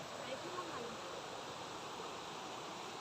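Heavy rain pours steadily over floodwater outdoors, a dense, even hiss that stays constant and fairly faint throughout with no break.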